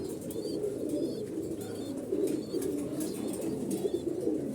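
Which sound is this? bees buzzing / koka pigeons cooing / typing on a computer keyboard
koka pigeons cooing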